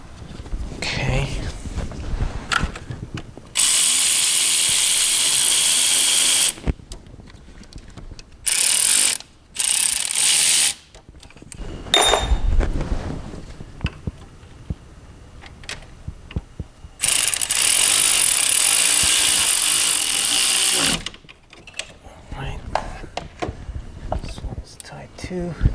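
Ratchet clicking in bursts while tightening brake line fittings on a 2004–2009 Toyota Prius during an ABS actuator replacement, short metallic ratcheting runs separated by pauses and quiet workshop noise, with a voice talking at times.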